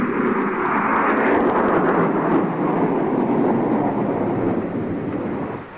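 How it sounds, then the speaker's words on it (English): Broad rumbling train noise, a radio drama effect of a train pulling up at a station, holds steady and loud throughout, then slowly eases off at the end with no voices. "Just as the train pulled up at the station"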